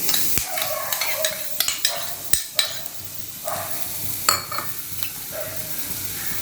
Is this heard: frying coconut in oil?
yes